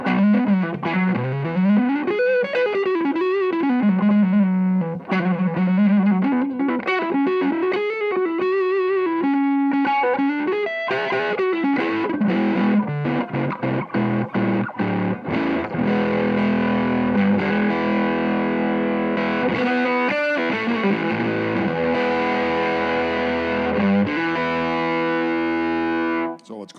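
Electric guitar played through fuzz and Tube Screamer pedals together, giving a thick, saturated distorted tone with sustained notes, bends and choppy rhythmic chords throughout.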